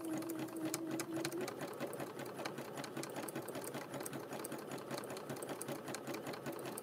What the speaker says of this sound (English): I have my speed on my sewing machine set in medium.